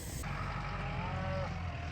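Low cattle moos carry over a steady wash of outdoor noise, the animals sounding some distance away.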